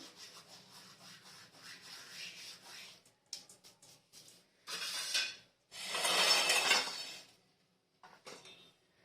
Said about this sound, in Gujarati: આ અજમા છે, એને હાથથી જરા મસળી નાખશું